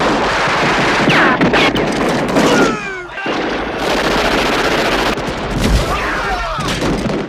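Rapid bursts of gunfire, loud and close, crackling in dense volleys with brief pauses between them, like a film action scene.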